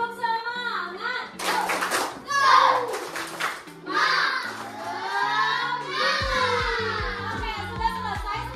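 A class of schoolchildren in an Indonesian Islamic school lesson performs a rhythmic 'tepuk semangat' spirit clap, with bursts of patterned hand claps mixed into loud chanted and sung children's voices throughout.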